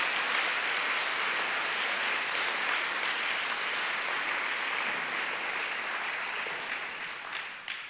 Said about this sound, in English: So just a round of applause for such a wonderful place